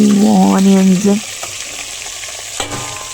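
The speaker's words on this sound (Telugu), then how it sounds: "ఆవాలు వేసి చిట్పట్లాడాలి. సో ఆ తర్వాత ఎండుమిర్చి, కరివేపాకు, అట్లాగే మనం కట్ చేసుకున్నటువంటి బెండకాయ ముక్కలు" Okra frying in hot oil with mustard seeds, a loud, close, bubbling sizzle heard under a voice for the first second, then alone, with a sharp clink near the end.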